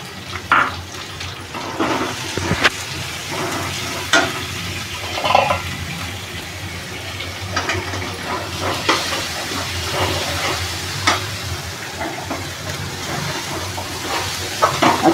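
Ginger-garlic paste and two green chillies sizzle steadily in a pan for palak paneer, a continuous close hiss with scattered crackles and no talk.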